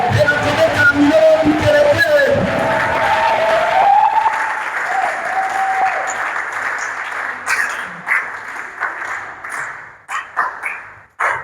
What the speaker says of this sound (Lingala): Saluez sa présence par des applaudissements.